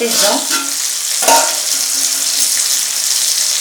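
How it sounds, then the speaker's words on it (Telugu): Okra and fish fry together in a pan for a fish curry, giving a loud, steady close sizzle with a brief stirring scrape partway through. "మళ్ళీ ఒక నిమిషం పాటు మూత పెట్టి ఫ్రై చేద్దాం"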